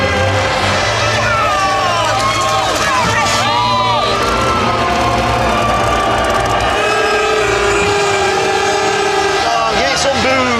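A stock car race crowd cheers and shouts loudly, mixed voices rising and falling with whoops and children's yells, with a low engine-like rumble underneath.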